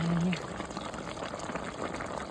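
Chicken adobo simmers in a pot of water, a quiet, continuous bubbling with soft liquid burbles under low room noise; a brief tonal sound opens the moment.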